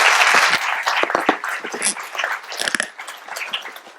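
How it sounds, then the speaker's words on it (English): An audience at a foundation day fireside chat applauds, the clapping loud and dense at first and then thinning into scattered, uneven claps. "Please give her a warm applause."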